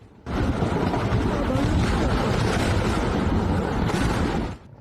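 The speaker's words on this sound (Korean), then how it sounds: "희뿌연 연기가 공장 위를 가득 메우고 폭발음이 계속됩니다." Repeated blasts from a burning battery factory where stacked primary cells explode in a chain, heard as a dense, continuous roar of booming and crackling bursts, loud and sustained for several seconds before cutting off.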